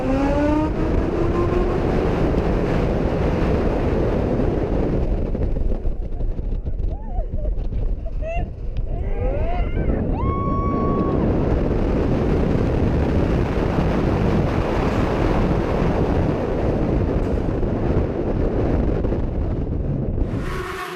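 On-board ride on Red Force, a roller coaster at PortAventura, with constant loud wind rush and rumbling track roar throughout, steady and without a break.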